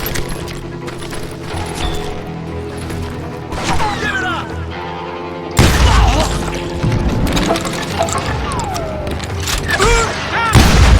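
Gunfire in the Wild West video game Call of Juarez Gunslinger, including a shotgun, loud booming shots and impacts over a busy backdrop, with brief voices mixed in.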